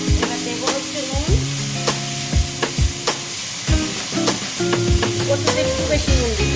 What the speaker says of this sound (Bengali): দিয়ে দেবো হচ্ছে কচুটা, যে কচুটা কেটে রেখেছিলাম, নাড়া দেবো